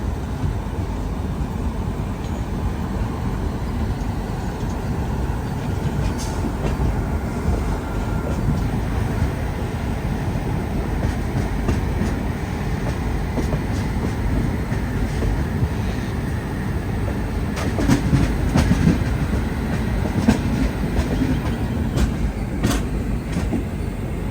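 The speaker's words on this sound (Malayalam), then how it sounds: "വിശാഖപട്ടണത്തേക്ക് ഇതാ നമ്മുടെ ട്രെയിൻ എത്തിക്കൊണ്ടിരിക്കുകയാണ്." The Godavari Express rolls into Visakhapatnam Junction station, a continuous low rumble of wheels and carriages with occasional brief squeals and clanks, fairly steady throughout and without speech.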